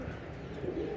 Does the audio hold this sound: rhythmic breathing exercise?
no